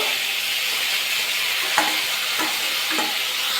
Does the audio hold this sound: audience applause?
no